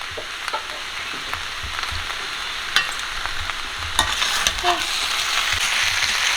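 Potatoes fry with cumin and green chilli in a kadai over low heat, a soft continuous sizzle broken by scraping stirs and a few sharp clicks of the spoon against the pan, close and without talk.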